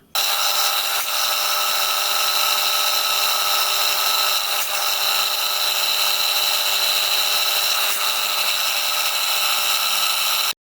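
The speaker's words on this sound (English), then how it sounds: "when my drill comes down into this bore at that 9-degree angle, it should break through a 1/8 of an inch" A drill bores an angled drain cock hole into a model steam locomotive cylinder, a loud, steady high-pitched whine running continuously and close up, alone without talk.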